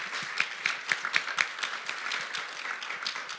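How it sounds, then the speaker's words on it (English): An audience at a guide dog graduation claps for puppy raisers and new teams, a fairly faint round of applause with a few sharp, distinct claps standing out near the start. "Let's do one more big round of applause for all the puppy raisers and our 3 new teams today"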